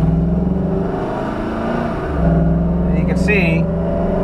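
A Jeep Wrangler JK fitted with a 5.3 L83 V8 accelerates up a mountain grade, its engine droning steadily and loud from inside the cab while someone talks over it.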